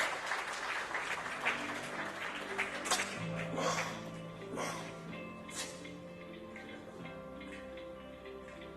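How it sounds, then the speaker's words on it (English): An audience at a business conclave in an industrial association hall gives a round of applause for a conference speaker, scattered clapping that fades out under quiet room sound. "A big round of applause for Shri Hari Surya"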